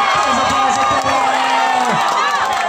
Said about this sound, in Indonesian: teriakan-teriakan dari kedua supporter sangat seru sekali